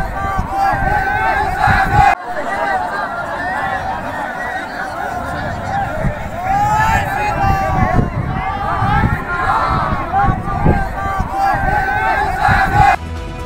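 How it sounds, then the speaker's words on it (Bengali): A large crowd of Bangladeshi minorities gathered at the Sitalkuchi border zero point, standing in water, shouting slogans together in loud, ragged overlapping voices that sustain throughout with continuous crowd babble. "তখন 0 পয়েন্টের মাটিতে বসে হাসিনা সরকারের সমর্থনে জয় বাংলা স্লোগান দিতে থাকেন ওই মানুষজন, তোলেন জয় শ্রীরাম ধ্বনিও।"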